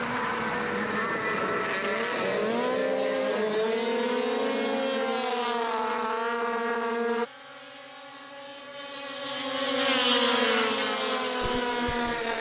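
Polaris racing snowmobiles at the Canadian Power Toboggan Championships, engines screaming loudly with rising and falling pitch as machines pass close, a sharp drop as one fades, then another revving up again.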